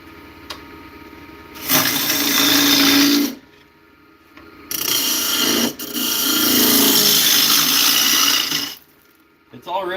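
A wood lathe spins an 8 by 4 inch walnut bowl, giving two long stretches of loud, steady whirring and scraping, separated and followed by quieter pauses with a low background hum.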